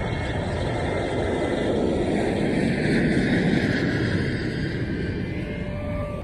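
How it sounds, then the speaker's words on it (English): An airliner takes off, its jet engines giving a loud sustained roar that swells toward the middle and then eases slightly, with no voices over it. "gonna watch this plane take off"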